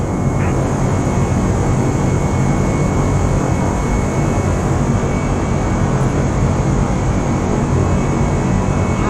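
Steady, loud broadband roar of airliner jet engines from Microsoft Flight Simulator, cleared for takeoff on runway 12 right, holding constant and unbroken throughout.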